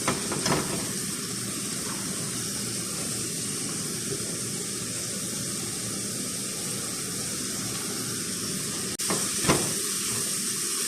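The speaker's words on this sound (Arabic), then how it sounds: "راح أقلب البصل هنا مرة كويس لما يتحمر معايا أو يصير لونه أشقر" Onions frying in olive oil and butter for a shrimp rice dish, a steady broadband sizzle running throughout at moderate level, with a couple of brief clatters near the end and no talking.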